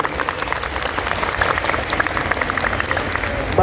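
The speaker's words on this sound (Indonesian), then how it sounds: "Ahilman mau tepuk tangan yang paling meriah untuk Icon Mall Gresik" An audience at Icon Mall Gresik in Gresik claps in lively, dense applause during an anniversary gathering, a steady crackle of hands with some crowd murmur underneath.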